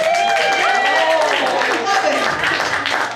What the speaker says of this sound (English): clap if you're feeling a little judgmental today